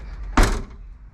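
A single solid thunk as a Mitsubishi Delica L400 door swings shut, close and fairly loud, with a brief rattle fading after it.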